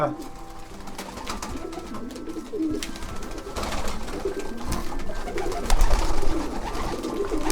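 Several pigeons coo and flutter close by in a loft, their low burbling calls overlapping steadily with some shuffling.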